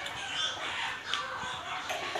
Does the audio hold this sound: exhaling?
no